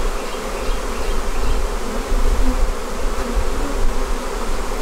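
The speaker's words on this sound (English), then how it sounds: "They're all fanning like crazy." A hive of honeybees fans and buzzes during a massive swarm in a bee yard. The dense, loud drone of countless wings runs on without a break and stays close throughout, with no talk.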